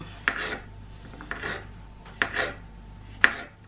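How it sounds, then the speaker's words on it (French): A knife chops mushrooms on a board for a seasonal risotto, giving four distinct sharp cuts spaced about a second apart, each followed by a soft slicing scrape, close and fairly quiet. "Ensuite je coupe les champignons."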